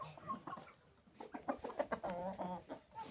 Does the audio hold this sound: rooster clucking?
yes